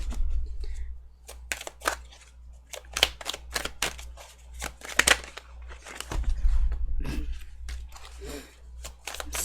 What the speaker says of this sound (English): Still not used to shuffling this deck.